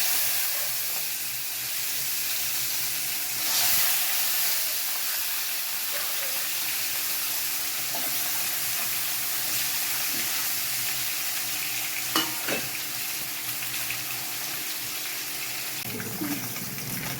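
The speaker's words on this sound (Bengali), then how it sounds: "এরকম করে আমি পুরো মাছটাকে ভেজে নেব" A whole mrigal fish fries in hot oil, giving a steady close sizzle and crackle throughout with a few brief spatters and stirring sounds.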